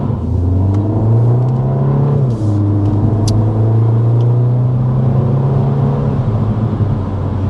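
A 2025 Mini Cooper 4-Door accelerates steadily to 55 mph, heard from inside the cabin, a loud low engine drone rising in pitch, shifting once, then climbing again over road rumble.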